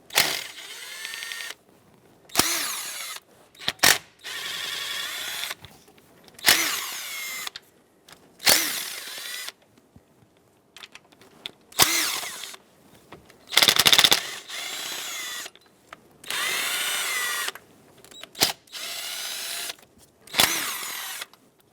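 A power tool unthreads 8mm valve cover bolts on a 2008-2020 Dodge Grand Caravan 3.6L, sounding in about a dozen separate whirring bursts of one to two seconds each, close by, with quiet gaps between them.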